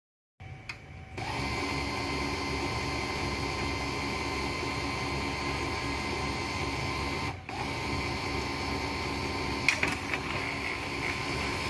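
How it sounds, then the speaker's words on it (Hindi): An HP LaserJet P1505 printer hums and whirs steadily and closely, with a few sharp clicks and clunks as its top cover is opened and closed. "टॉप कवर को 5 बार ओपन और क्लोज करना है इस तरह से"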